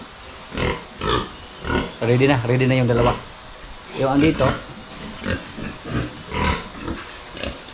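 Pigs on a small farm grunt and oink in short repeated bursts close by, mixed with someone talking throughout.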